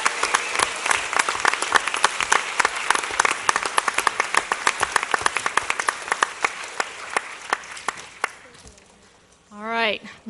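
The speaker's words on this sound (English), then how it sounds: "How about another round of applause for those perfect 300ers?" An audience at an evening board of education meeting applauds students honored for perfect scores, a dense burst of clapping that thins and fades out before a voice begins speaking at the end.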